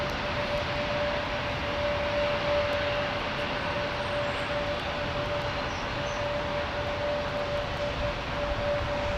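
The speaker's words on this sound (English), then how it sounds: "Vueling's 321 Neo" Vueling Airbus A321neo airliner at London Heathrow, a faint, distant, steady engine roar with a thin whine running through it, without talk.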